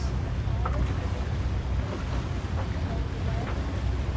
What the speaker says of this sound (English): the wind's kept in, isn't it?